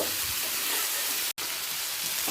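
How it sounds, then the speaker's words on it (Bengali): Eggplant, green chili and tomato fry over a high flame, giving a dense, steady hiss of sizzling oil close by with a single abrupt cut partway through. "এই সময় দিয়ে দিচ্ছি বেগুন কাঁচা লঙ্কা আর টমেটো এটাও হাই ফ্লেমে এক মিনিট ভেজে নেব"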